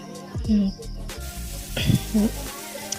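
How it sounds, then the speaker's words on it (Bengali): Fish rubbed with turmeric and salt hisses and sizzles in hot oil, a brief frying crackle with a few sharper spits, close by and moderately loud. "মাছগুলোকে ধুয়ে ভালো করে হলুদ লবণ মেখে এখন ভেজে নিচ্ছি"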